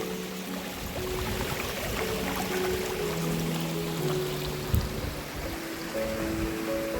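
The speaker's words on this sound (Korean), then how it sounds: "계곡물 좋다." Water flows steadily through a mountain valley stream in Jeongseon, a continuous broad rushing wash with no voices, close and even throughout, with one brief splash-like bump near the end.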